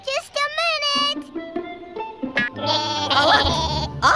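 Cartoon sheep bleats in a VeggieTales animated scene, several wavering, nasal cries in a row, loud and close, with a character's voice and busy background music mixed in toward the end.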